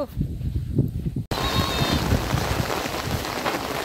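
Rain falling in a village in the Sundarbans, a soft patter that abruptly turns into a loud, dense, steady downpour hissing on surfaces close by, with no one speaking.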